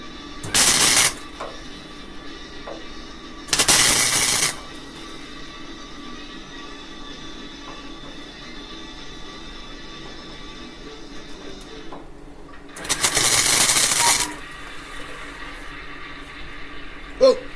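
Three short bursts of MIG welding crackle while a rusty part is tacked down, each lasting about a second, separated by quiet stretches with a faint hum in a workshop.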